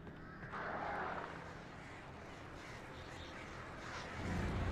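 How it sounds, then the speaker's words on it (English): Crows caw in the video game Alan Wake, faint and somewhat distant over a constant wash of in-game ambient noise, with no one speaking. "Here comes the birds."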